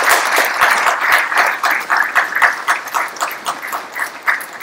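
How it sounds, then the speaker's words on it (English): An audience at an IT award ceremony in Mauritius breaks into lively applause, a loud, uneven patter of many hands that swells and wavers for several seconds without talk. "Big round of applause."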